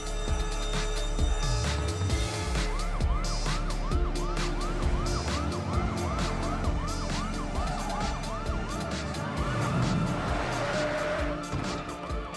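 Police sirens wailing in Grand Theft Auto V during a heist-style chase, several cycling sirens over engine and traffic rumble, with gunfire-like pops and a few brief voices.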